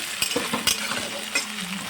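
Ginger garlic paste is stirred into vegetables frying in a pan, giving a steady sizzle broken by several scraping and clinking spoon strokes at close range.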